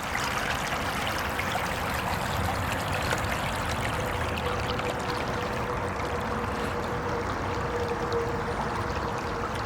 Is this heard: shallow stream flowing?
yes